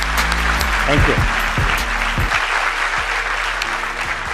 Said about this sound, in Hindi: का स्वागत करता हूं जोरदार तालियों से।